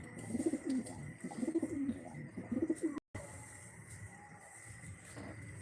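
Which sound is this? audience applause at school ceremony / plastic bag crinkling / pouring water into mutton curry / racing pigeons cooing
racing pigeons cooing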